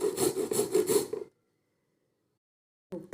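Radish being grated by hand for tomato chutney, a steady rasping scrape in quick repeated strokes for about a second, then silence before a brief final scrape, close up with no talking.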